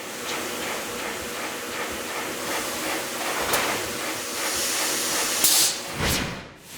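A shin press machine squashes an eyeglass hinge knuckle flat with a continuous loud, breathy hiss like escaping steam, swelling in short surges and ending with a few sharper bursts.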